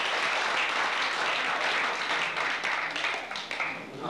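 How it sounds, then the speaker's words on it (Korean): Dense audience applause fills a Korean event hall, loud and steady throughout before thinning slightly at the end, with no voices standing out. "자 여러분 박수 한번 드리면 될까요?"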